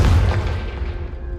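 In the video game Hogwarts Legacy, a Confringo spell explosion lands as a single deep, loud boom that fades out quickly over about a second.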